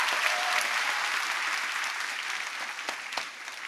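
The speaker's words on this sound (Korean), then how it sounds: "박수 한번 해드릴까요?" Congregation applause inside a church during a festival service, a steady wash of many hands clapping at moderate volume that gradually thins toward the end.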